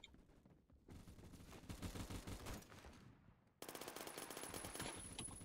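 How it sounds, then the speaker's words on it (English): Automatic fire from an MG3 machine gun in the Roblox shooter Phantom Forces: loud, sustained bursts of rapid shots that cut out briefly, then resume even harder, with no voices. "Oh yeah, I forgot, this is my horrible MG3."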